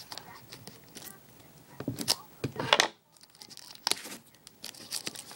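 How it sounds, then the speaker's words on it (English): Plastic wrap being cut and torn off a Pokémon Platinum Arceus theme deck, close up: crinkly, scratchy bursts of crackling and tearing with a short pause midway, no talking. "Just plastic on that, so we're gonna cut that off."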